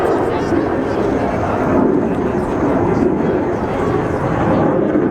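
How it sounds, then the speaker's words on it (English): A fighter jet flying laps over the Capitol gives a loud, continuous low engine roar that fills the whole stretch without letup. "a fighter jet did 2 laps over the Capitol, effectively muffling out the voice of the victim as she delivered her remarks"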